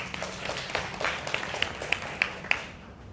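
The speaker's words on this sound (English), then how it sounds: "give our volunteers a massive round of applause as they put the buckets on stage." An audience at a leadership keynote talk claps for volunteers carrying buckets onto the stage, a scattered, moderately loud patter with a few sharper hits that thins out toward the end.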